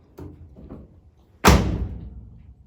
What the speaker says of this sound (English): I'm gonna shut it.